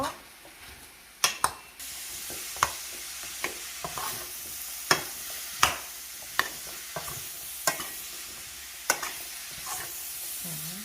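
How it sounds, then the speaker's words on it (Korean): Meat and turmeric curry powder being stir-fried for a curry rice, with a steady sizzle broken by repeated sharp scrapes and knocks of a utensil against the pan, close and fairly loud, no voices. "가루를 고기, 아까 씻어놓은 물 빼는 고기 넣어서 같이 볶아주세요"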